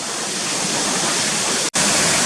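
Waterfalls coming down Swinner Gill, a loud, continuous broadband roar of falling water heard steadily throughout with a momentary dropout near the end.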